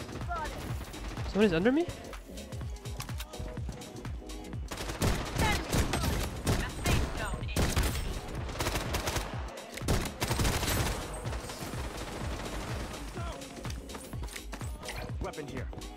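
Dense gunfire in the Bloodstrike shooter, with a Desert Eagle pistol loadout in play, crackling steadily through a busy firefight while a player talks over the shots.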